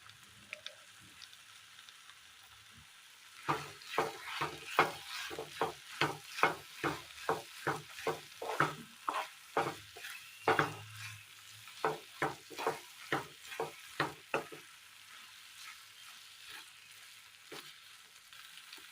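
A spoon stirs vegetable masala noodles with chilli sauce as they fry in a pan, giving a rhythmic run of about twenty close, sizzling scrapes and tosses over a faint background sizzle.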